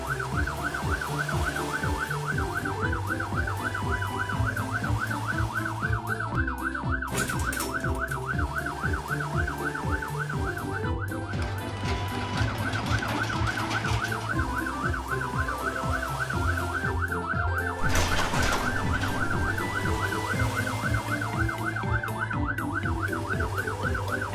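A cartoon police siren wails continuously in a repeating high-pitched pattern, loud and close, with traffic rumble underneath.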